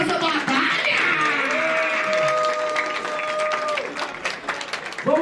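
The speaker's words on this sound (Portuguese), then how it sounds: "Palmas pra essa batalha!" A crowd at a Brazilian rap battle claps and cheers loudly, with a voice calling out over the sustained applause and a few whistles or shouts mixed in.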